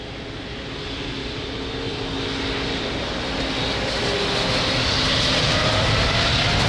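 An Etihad heavy jet takes off from runway 02 at Lisbon Airport, its engine roar swelling steadily louder over several seconds as it powers down the runway, with no talk.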